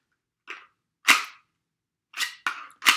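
Gunshots fired in a quick series, five sharp cracks with an irregular rhythm, the first faint and the later ones louder, set against silence.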